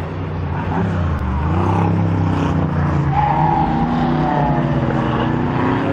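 Classic sports cars, including small berlinettes and an Opel GT, race hard around a circuit at a historic meeting, with loud sustained engine roar and rising revs as cars accelerate past close by, continuous throughout with no talk.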